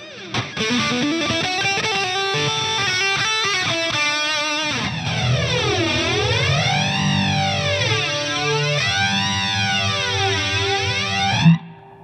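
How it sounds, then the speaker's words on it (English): An Epiphone Jimi Hendrix Flying V electric guitar played through a tube screamer overdrive, first a run of crunchy chords and notes, then long bending, swooping sustained tones, loud and close. "This is with a tube screamer on."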